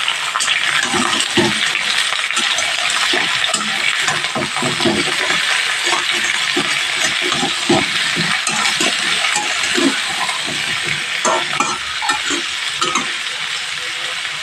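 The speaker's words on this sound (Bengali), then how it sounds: "দিয়ে ভালোভাবে নাড়াচাড়া করে সবজিটা ভেজে নিতে হবে" Raw pumpkin being stirred and fried in a pan makes a steady, loud sizzle, broken by frequent scraping and clattering knocks from the stirring, with no voices.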